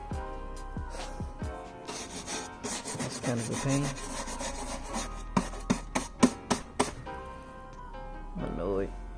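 Rough scraping and rasping against a car valve cover to strip off paint, done by hand without proper tools; uneven strokes build into a run of sharp, loud scrapes near the mic, with someone talking between them.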